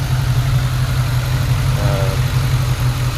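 A New Edge Ford Mustang with a stock 2-valve engine, throttle body spacer and hot air intake idles with a loud, steady low rumble, recorded close by and uninterrupted.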